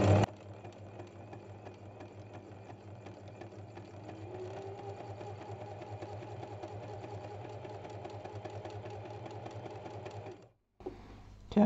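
Sewing machine running steadily in free motion embroidery, a fast continuous mechanical whir with rapid needle ticking, close and alone, stopping abruptly near the end.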